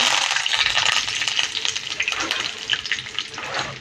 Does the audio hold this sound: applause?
no